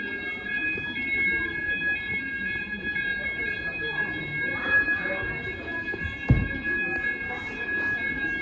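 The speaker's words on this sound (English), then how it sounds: "But there's a fire alarm test." A Middlesbrough food warehouse fire alarm, an XP95 system, sounding a steady high electronic tone throughout, with people talking nearby and a brief sharp knock near the end.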